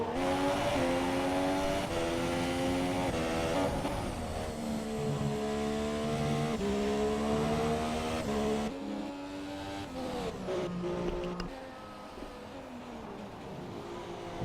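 F1 race car engine from the game F1 2017 at the Canadian circuit, a loud, steady high-pitched whine climbing through gears with brief drops at shifts, sustained close throughout with no talk.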